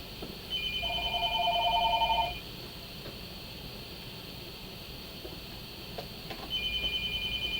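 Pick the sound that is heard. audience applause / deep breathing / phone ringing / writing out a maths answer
phone ringing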